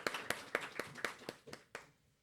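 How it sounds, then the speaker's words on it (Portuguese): An audience at an architecture talk event in Maringá gives a short round of applause: a handful of evenly spaced claps, faint and fading out within about two seconds. "Uma salva de palmas para a Ana, gente."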